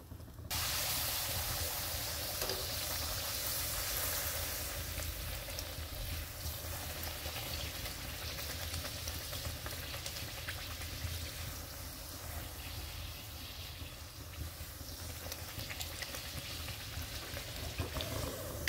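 Tomato puris deep-frying in hot oil, a dense continuous sizzle and crackle, close and steady throughout without a break.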